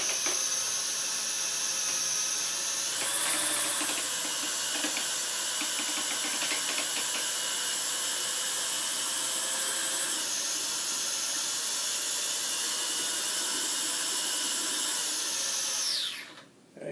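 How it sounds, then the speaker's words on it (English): A drill-mounted degassing device whirs and hisses steadily while stirring homemade wine from an Italian wine kit, a close, continuous mechanical drone that shifts slightly in pitch partway through and cuts off near the end. "you can see how having this device on a drill is way better than having a spoon and stirring it"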